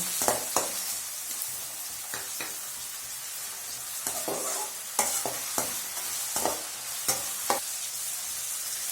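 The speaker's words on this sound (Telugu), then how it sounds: "అలాగే ఇందులోకి 4 పచ్చిమిర్చి చీలికలు వేసుకొని ఒకసారి వేపుకోండి." Sliced onions and green chilli slits fry in a pan with a steady sizzle, while a spoon stirs and scrapes with repeated sharp clinks and taps. The frying is close and fairly loud throughout, and nobody speaks.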